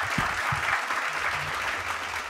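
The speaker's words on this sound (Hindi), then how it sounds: "एक बार जोरदार तालियां हमारे दोनों पैनलिस्ट के लिए" An audience at an awards event applauding two panelists, steady dense clapping from a crowd that fills the room evenly for the whole stretch, with no voices over it.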